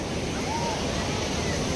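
Steady wash of sea waves rolling in at a beach in Goa, a continuous broad roar with wind mixed through it, no voices.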